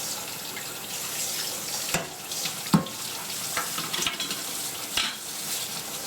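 A colander washed out under a running kitchen tap, a steady rush of water with occasional knocks and clatters of the colander, close and without talk.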